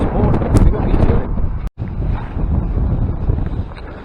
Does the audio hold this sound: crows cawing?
no